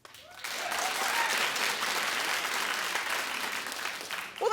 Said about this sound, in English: Clap if you find her gorgeous.